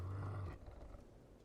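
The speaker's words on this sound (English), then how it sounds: "Oh, there's a wolf there." A wolf in the Fable 3 video game gives a deep, rumbling growl for about half a second, then the sound drops away into quieter game ambience.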